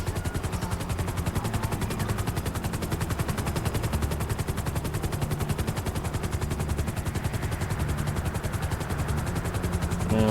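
A helicopter in the video game GTA V, its rotor beating in a fast, loud, steady chop for the whole stretch with no voices.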